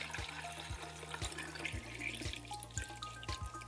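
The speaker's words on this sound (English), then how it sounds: "Let's pour the chemicals in. Go straight in with the developer." Film developer poured into a developing tank, about 800 millilitres to cover a medium format roll of Ilford Pan F 50 Plus, gives a faint, steady liquid trickle over a low electrical hum with a few soft clicks.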